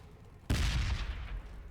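A single heavy las cannon shot fires in the video game Warhammer 40,000: Battles, an abrupt loud blast with a rumbling low boom that decays over about a second.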